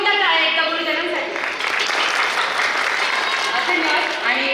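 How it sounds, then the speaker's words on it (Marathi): Parents give loud, sustained applause for teachers at a school annual function, a thick, continuous roar of clapping with a sustained musical tone underneath. "आपल्या सर्व पालकांकडून जोरदार टाळ्या एकदा गुरुजनांसाठी."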